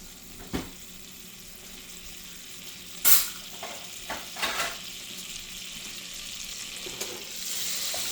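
Softened butter, two tablespoons, dropped into a hot pan, giving a steady quiet frying sizzle with a brief louder crackle burst when it lands and a few small spatters after.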